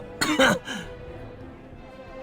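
A cookie character in the video game Cookie Run Kingdom gives a brief, rough cough: one short voiced burst, then a quiet tail of faint background tone.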